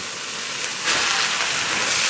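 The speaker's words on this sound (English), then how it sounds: "Let that sizzle a little, and then I'm gonna add my rice." Loud, steady sizzling hiss of hot oil in a pan for kimchi fried rice, swelling a little louder partway through, with no voices.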